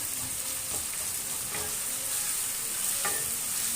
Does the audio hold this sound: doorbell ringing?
no